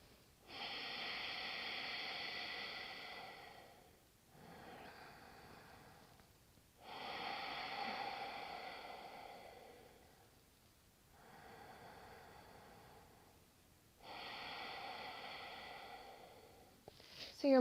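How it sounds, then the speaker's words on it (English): Ujjayi breathing through the nostrils with a constricted throat, demonstrated in slow alternating inhales and exhales, each a long hissing, ocean-like breath lasting a few seconds with short pauses between, close and clear. "I know it's going to sound silly to many people who aren't familiar with Ujjayi breathing"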